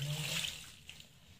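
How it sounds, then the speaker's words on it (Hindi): Water drains from cauliflower, potatoes and other vegetables in a colander while pakoras are being made: a soft, rushing trickle that fades and thins to a few faint drips, heard at a quiet level. "छाननी में ना हमने डाली ये सारी चीज़ें, पानी निकल जाएगा।"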